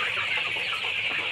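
Sonali chickens, about 35 days old, clucking in a poultry shed, a continuous close chorus of overlapping bird calls with no talk.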